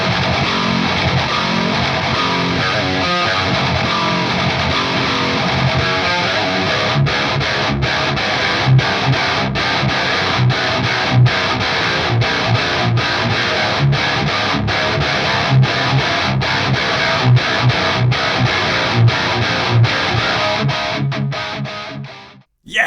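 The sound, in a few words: high-gain distorted guitar, Kazrog AmpCraft 1992 amp plugin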